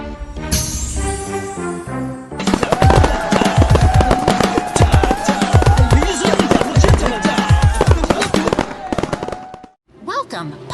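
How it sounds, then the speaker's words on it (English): Cartoon fireworks crackle and pop in rapid bursts over bright, busy music, loud and continuous before a brief pause near the end. "The skeletons are dancing and the fireworks are popping."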